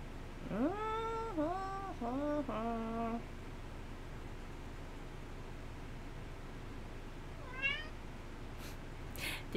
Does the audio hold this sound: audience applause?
no